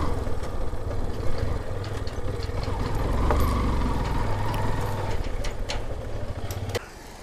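A motorcycle engine idles close by on a road near home, a steady low rumbling hum that runs evenly for several seconds and then drops away near the end, with no voices.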